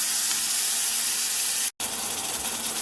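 Raw meat sizzles in a cooking pan, a steady, fairly loud hiss that carries on without a break apart from one brief dropout near the end, with no talking.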